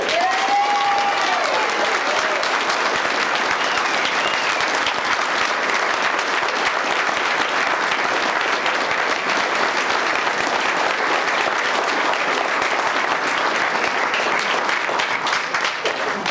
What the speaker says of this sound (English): you must prove it to him by your applause now